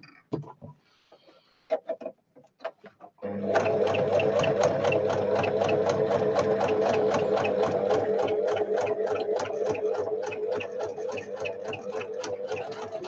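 After a few faint clicks and handling noises, a sewing machine starts up and stitches steadily and loudly, sewing a Velcro piece into fabric for a pocket book.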